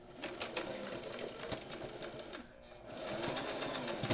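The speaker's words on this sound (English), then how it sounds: "you'll line up with your half inch mark on your sewing machine, and then you'll anchor" A sewing machine backstitches fabric for a belt pocket, its needle clattering in quick rapid bursts with a brief pause before running on, close and fairly quiet with no talking.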